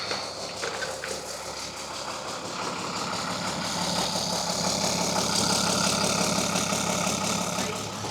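A 1300+ HP truck engine, freshly fitted with a replacement head, runs at a steady rough idle nearby, its low rumble slowly swelling louder over several seconds without speech.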